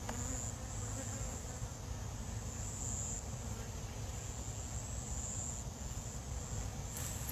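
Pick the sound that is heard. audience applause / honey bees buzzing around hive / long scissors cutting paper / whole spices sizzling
honey bees buzzing around hive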